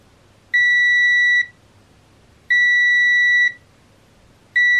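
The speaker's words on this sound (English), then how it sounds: "There's a slight delay in between touching the probes and it beeping." Loud electronic beeps from a Mestek DM100C multimeter continuity test, each about a second long, repeating at a steady two-second interval with quiet gaps between, no talking.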